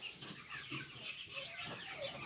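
Several chickens and roosters cluck and murmur close by in a continuous, overlapping chatter, soft and steady without pauses, as they come out after rain.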